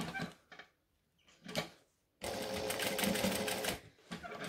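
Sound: sewing machine stitching a zipper

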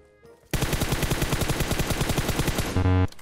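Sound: gunfire while shooting in PUBG Mobile video game

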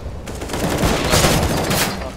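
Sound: AK rifle gunfire in the video game Counter-Strike (CSGO)

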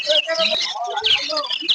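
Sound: Gouldian finches chirping at a bird market

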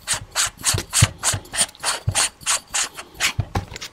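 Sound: screwing a silencer back onto a Hatsan Blitz air rifle

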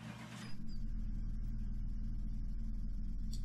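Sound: car engine rumbling in video game Car Mechanic Simulator 2018

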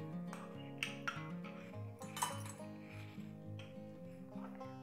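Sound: adding custard apple pulp to kheer in a pan

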